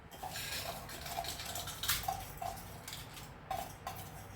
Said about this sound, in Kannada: ನೀರಲ್ಲಿ ಸರಿಯಾಗಿ ತೊಳ್ತಿದ್ದೇನೆ